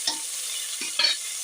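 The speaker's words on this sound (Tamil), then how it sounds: "புதினாவையும் சேர்த்து நல்லா வதக்கிக்கலாம்." Onions and mint sautéing in a pan for vegetable biryani, with a few soft scraping stirs and a steady faint sizzle underneath; no one speaks.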